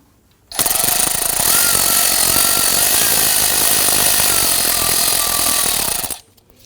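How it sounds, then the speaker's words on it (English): A ratchet with an extension and 10mm socket backs a bolt out of the intake variable valve timing solenoid on a 2017-2020 Hyundai Elantra, a loud, continuous rapid clicking that runs steadily for about five and a half seconds. "I'm going to use an extension in my 10mm socket."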